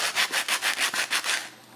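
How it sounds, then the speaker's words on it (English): Sandpaper rubbing back and forth on Z scale model railway track, a quick run of about eight even, close scratchy strokes that stop near the end, with no talk. "This is just a piece of sandpaper. If I use this on it, obviously sandpaper is much harder, so it's going to bring off more."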